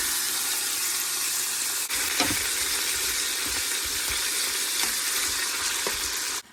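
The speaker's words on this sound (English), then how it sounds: "I'm going to put the meat in there and let it saute a little bit" Beef sautéing in about three tablespoons of olive oil in an Instant Pot for beef stew. A loud, continuous hissing sizzle is broken by a few soft stirring knocks, then cuts off abruptly at the end.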